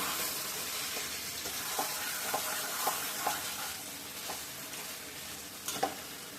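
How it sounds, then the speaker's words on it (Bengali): Potatoes and onions fry with meat in a hot pan, a steady loud sizzle broken by rhythmic spatula strokes and scrapes as they are stirred. "এবার আমি আলু পেঁয়াজ সব ছেড়ে দিলাম। তারপরে একটু নেড়ে ছেড়ে আলুর সাথে মিশিয়ে দিই।"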